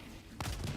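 Gunfire breaks out in a video game battle against a War Strider: a sudden burst of rapid shots cuts in abruptly halfway through and carries on, loud over a quiet background.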